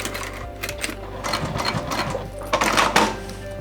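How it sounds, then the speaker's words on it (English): A sewing machine runs close by, stitching a crossbody bag, its needle chattering in quick, steady bursts with a low motor hum underneath. "Let's rather sew it together."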